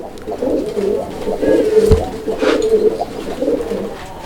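Male pigeon cooing repeatedly while circling a female, a steady series of low throaty coos from a nearby bird, mixed with other pigeons' calls at close range.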